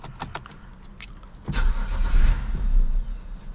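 A BMW car engine cranks and catches after a few light clicks and key jingles, then settles into a rough, loud idle up close, consistent with a misfire.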